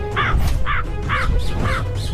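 Crows in an animated story give four harsh, evenly spaced caws while attacking, loud and close over a dense, rumbling background.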